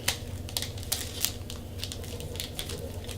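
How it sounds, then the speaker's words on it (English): Tape being pressed and smoothed onto soap packaging, giving close, dry crackling and tapping clicks scattered irregularly over a low steady background hum, with no talking. "Okay, so I'm going to put a piece of tape."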